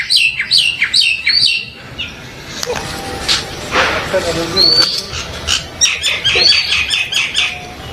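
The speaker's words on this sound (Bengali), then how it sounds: "তো দেখুন পাখির ডাকগুলা কিন্তু অসাধারণ" Peacocks call repeatedly in a park, bright chirps and sharp whistled notes in quick bursts, fairly close, with some faint background noise between the calls.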